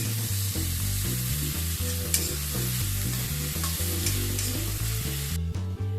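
Sliced onions frying in a pan with salt until golden brown, a steady close sizzle with some stirring, continuous and loud, with background music throughout.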